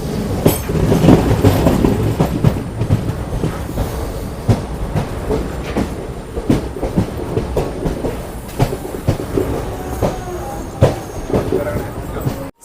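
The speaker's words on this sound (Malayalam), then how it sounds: "നമ്മുടെ ട്രെയിൻ അങ്ങനെ കുറ്റിപ്പുറം സ്റ്റേഷൻ ലക്ഷ്യമാക്കി മുന്നോട്ട് പോയിരിക്കുകയാണ്." The Thiruvananthapuram Central Express rolls into Kuttippuram station in Kerala, a loud rumble and clickety-clack of wheels over rail joints heard from aboard, easing into irregular clunks and faint squeals as the train slows.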